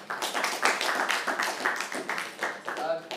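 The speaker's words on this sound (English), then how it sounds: "And now you can clap from the top." Steady applause from a group, dense patter of many hands clapping continuously at fairly even loudness throughout.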